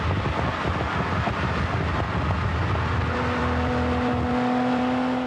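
1987 Lamborghini sports car driving at about 180 miles an hour, a loud continuous roar of engine and wind rushing past, steady throughout with a sustained drone emerging partway through.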